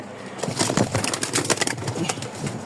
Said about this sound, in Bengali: খালি বলেন যে ভাই কবুতর উড়ে কিনা, দেখছেন বের হয়েই কবুতর